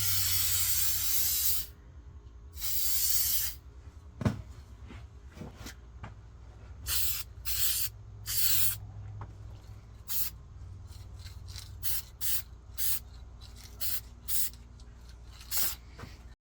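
Spray paint can hissing black paint onto a primed model SR-71 hood ornament, in a series of short and longer bursts, close and loud, with quiet gaps between them.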